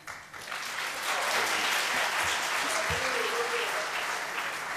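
Sustained crowd applause fills a debate hall, steady and dense for several seconds with a few scattered shouts rising above the clapping.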